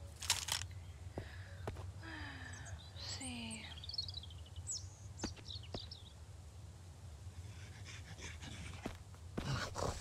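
A dog in the survival game Mist Survival pants in quick, rhythmic breaths close by, while scattered bird chirps and tweets sound over a low background rumble.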